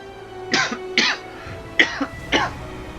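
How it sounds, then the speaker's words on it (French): Four harsh coughs come close together in two pairs, loud and near, with quiet breaths between them. "Je fais tout ce que je peux pour tousser le moins possible"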